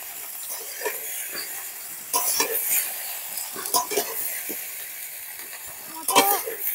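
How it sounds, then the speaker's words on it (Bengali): Boiled pasta fried with salt in a pan makes a soft sizzle under repeated spatula scrapes and knocks, the stirring coming in uneven bursts that grow louder near the middle and end. "পাস্তার ওপর স্বাদ মতো লবণ দিয়ে এবার ভালো করে ভেজে নেব"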